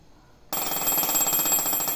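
Half a second of quiet, then a breathing apparatus's low-oxygen electronic warning alarm starts abruptly, loud, and pulses rapidly and continuously to the end.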